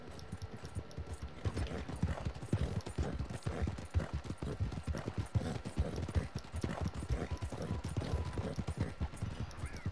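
Horse hooves clip-clopping in Red Dead Redemption 2 Online, a steady rapid rhythm of close, moderately loud hoofbeats over dirt, with no clear talk over it.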